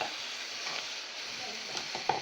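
Shrimp, crab and mussels fry in butter in a single pan, giving a close, steady sizzle with stirring scrapes and a sharp clink near the end.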